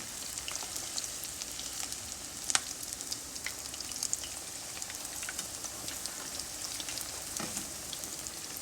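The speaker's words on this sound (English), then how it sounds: "Fry this 2 or 3 minutes on each side." Shrimp toast fries in hot oil, shrimp side down, with a steady close sizzle and dense bubbling crackle that runs throughout, with occasional sharper pops and no talking.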